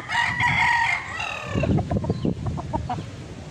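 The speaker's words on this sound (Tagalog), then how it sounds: "ito yung broodstag ni Sir Glenn ng Cotabato City" A gamefowl broodstag rooster of the Larry Romero Line Raptor Sweater crows once, loud and close, a drawn-out call in the first second followed by shuffling and clucking sounds.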